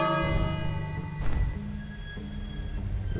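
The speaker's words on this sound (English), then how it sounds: "Do I wait or do I ring the bell again?" A bell rings out in the King's Quest adventure game, one sustained ringing tone decaying over a looping game melody, with a brief louder strike in the middle.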